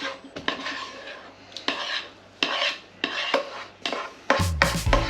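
Croquette dough for garlic prawn croquettes is scraped and shifted from a frying pan onto a plate, with repeated close scraping strokes of a utensil and a final clatter of cookware.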